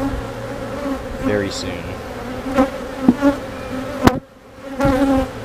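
A honeybee colony hums steadily from an open hive during a weekly inspection, with a few louder bees passing close by. Someone speaks briefly over the buzzing.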